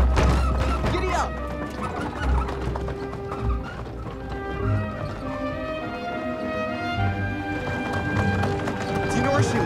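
A ridden horse clip-clops at a quick trot, hoofbeats rhythmic and fairly near, with a whinny, some clucking fowl and people's voices mixed in.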